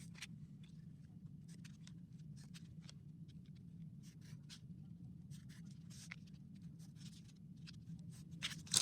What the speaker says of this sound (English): then you're going to use your straight edge ruler to connect all the dots